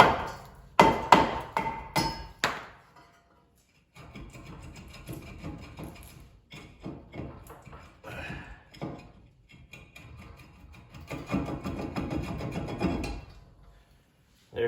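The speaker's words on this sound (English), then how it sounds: "I've got a rubber mallet, a lead-filled rubber mallet. We're going to try and loosen up this rotor." A lead-filled rubber mallet knocks at a front brake rotor on a 2007 Honda Pilot. A burst of heavy, dull blows comes first, followed by a clatter and shop noise as the rotor works loose, with someone talking at times.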